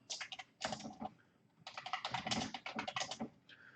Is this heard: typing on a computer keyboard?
yes